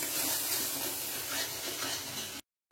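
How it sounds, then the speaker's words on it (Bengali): Spice paste for chicken kosha sautés in hot oil while being stirred, making a dense, continuous sizzle with scraping of the pan. The sound cuts off abruptly into silence just before the end. "এখন খুব ভালো করে মশলাটা কষাবো।"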